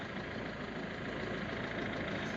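A Citroën C3 1.4 HDI diesel engine runs steadily at a low, rumbling pitch on a cold start, heard close up with a continuous, even drone and no talking.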